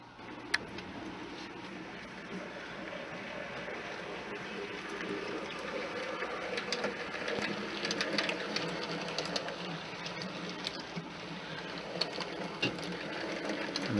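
A model decapod steam locomotive with its tender runs a test lap on a model railroad track, giving a steady, continuous mechanical whir and clatter with small ticking clicks, close and moderately loud throughout, with no talking.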